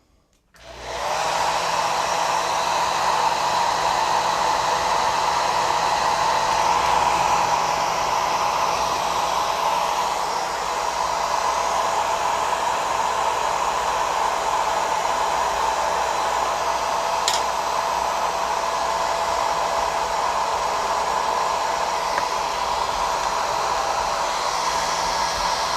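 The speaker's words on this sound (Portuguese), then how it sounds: "E agora eu vou secar com o secador" A hair dryer drying paint blows steadily and loudly for the whole stretch, a constant whooshing hum with no talking.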